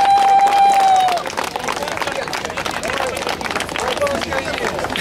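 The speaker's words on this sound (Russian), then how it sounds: "Ваши аплодисменты нашим юниорам." Applause from the crowd at a junior autocross awards ceremony in Zaporizhzhia, a steady wash of clapping and crowd noise with a loudspeaker voice or tone ringing over the start and faint voices throughout.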